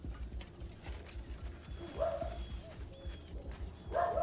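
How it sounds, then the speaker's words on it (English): A dog named Pepper barks a couple of times somewhere in the background, short and fairly faint, under steady game sound and room noise. "Sorry if you guys hear Pepper barking in the background."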